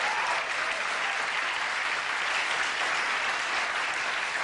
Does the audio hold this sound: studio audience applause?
yes